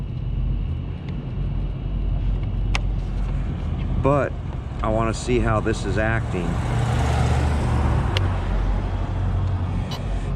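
An Arrma Limitless RC car runs along a curbed street, its electric motor whining in rising and falling bursts of acceleration over road noise, with someone talking nearby.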